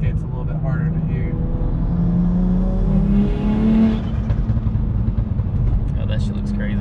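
A BMW 335i with an N54 single-turbo engine accelerates with the windows up, heard from inside as a rising tonal engine note over a low rumble that levels off, with faint cabin noises.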